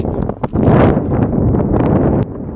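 Steady, loud wind roar buffets a microphone while riding a bicycle with headphones on, a dense low rumble that rises and holds with brief gusty dips, no speech.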